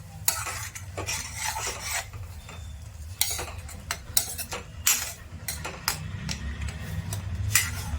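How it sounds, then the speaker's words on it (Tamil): Egg and drumstick flowers fry in a pan under a soft, constant sizzle, broken by frequent sharp clinks and scrapes of a metal spatula stirring against the pan, close by and without speech. "நல்லா ஃப்ரை பண்ணுங்க."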